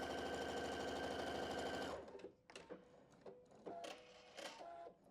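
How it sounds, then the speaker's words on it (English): Sewing machine stitching quilt fabric, a fast rhythmic mechanical whir running for about two seconds close up, then stopping into quieter handling clicks and rustles. "you are going to sew over your stitch lines"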